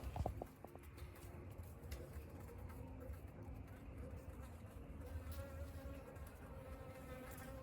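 Bees from a strong hive set on a metal hive stand, droning in a continuous, fairly faint hum with occasional closer passes, without talk.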